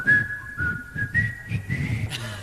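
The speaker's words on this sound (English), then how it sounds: "I'm going to whistle, and then I'm going to ask you to whistle" A performer on a live show whistles a tune in long, sustained, slightly wavering notes, clear and close, over a low room murmur.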